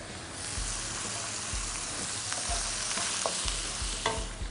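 Shallots and shrimp stir-fried with fish sauce and palm sugar in a hot pan, loud continuous sizzling with regular scraping strokes of a spatula, no voices.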